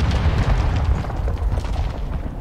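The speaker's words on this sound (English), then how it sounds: "Friendly mortar strike inbound." A friendly mortar strike explodes in a first-person shooter, a heavy, continuous low rumble of blasts rolling loudly through the whole moment.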